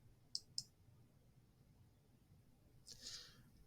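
A few mouse clicks on a library borrow button: two sharp, close clicks in quick succession, then a softer rustling click burst a few seconds later, against a quiet room hum.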